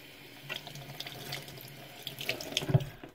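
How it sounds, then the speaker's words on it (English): Tap water runs steadily into a sink to dampen a washcloth before cleaning a mousepad, a close, continuous splashing stream with a few brighter spatters near the end and no talking. "So first we're going to get our washcloth a little bit wet."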